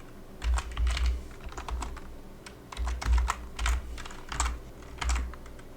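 Typing on a computer keyboard while writing JavaScript code, clustered bursts of crisp key clicks separated by short pauses, close and clear over a quiet room hum.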